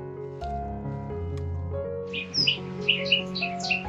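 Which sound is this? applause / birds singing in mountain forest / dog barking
birds singing in mountain forest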